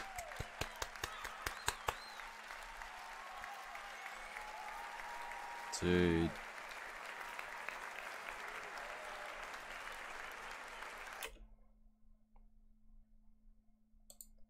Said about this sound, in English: And everyone just claps